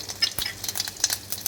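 Mustard seeds, cumin and asafoetida sizzle in hot oil for a traditional Gujarati dal, close and crackly, with quick popping bursts and spitting over a soft continuous fry.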